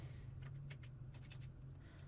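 Keyboard keys tapped at a steady pace while entering credit card details, a run of close, light clicks over a constant low hum, with no voices.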